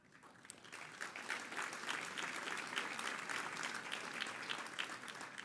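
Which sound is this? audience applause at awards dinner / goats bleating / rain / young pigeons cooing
audience applause at awards dinner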